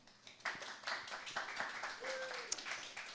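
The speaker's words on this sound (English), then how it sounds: "Give her a round of applause." Scattered clapping from a small audience at a tech mini-talk event on fiber and software projects, a few sharp hand claps over low room noise, fairly near and brief.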